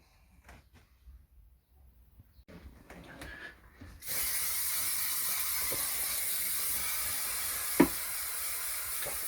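A continuous hiss of an aerosol adhesive spray starts abruptly after a few quiet seconds of faint handling noises and keeps going steadily.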